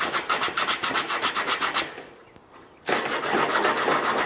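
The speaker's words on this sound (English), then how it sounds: "I'm gonna hit those edges with some sandpaper" Cut sheet-metal edges are sanded by hand with sandpaper, giving a fast, even run of rasping strokes. A short pause follows, then a steadier continuous scrubbing.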